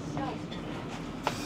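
Steady low rumble of a new passenger train moving in Belarus, departing Brest, with a faint rattle and one brief click, voices murmuring softly underneath.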